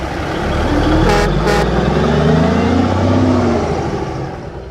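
An oil truck engine in the Curious George truck-driving game rumbles loudly and steadily, with two short high tones breaking through near the start before the engine noise fades slightly.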